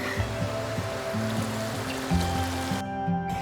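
A mountain river flows at trail post 3 on the hike to Kawah Ratu via Pasir Reungit, a loud, steady rushing wash close by, with tonal hums and low knocks threaded through it.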